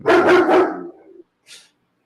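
A dog gives a quick burst of several loud, close barks that trail into a short whine, followed by a faint rustle.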